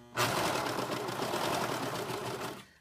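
A serger sewing machine stitching the edge of a flannel washcloth, a fast, steady mechanical whirr running continuously for nearly three seconds at close range before it slows and stops.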